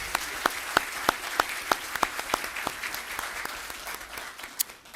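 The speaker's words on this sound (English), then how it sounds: "can we give them a round of applause" A small audience at a Fayetteville city council meeting claps in a sparse, fairly regular pattern of distinct individual claps. The applause is quiet and thins out toward the end.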